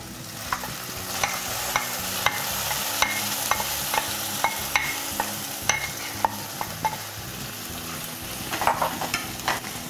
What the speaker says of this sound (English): Give this a stir and combine all the ingredients so that all the ingredients get well combined.